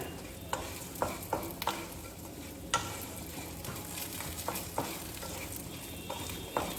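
Lentil badi frying in hot oil in a pan, with a soft, steady sizzle broken by sharp scrapes and clicks as the pieces are stirred every half second or so.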